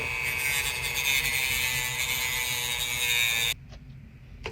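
A Dremel rotary tool grinds the end of a toy rifle part, a steady high-pitched whine held close for about three and a half seconds before cutting off abruptly into quiet.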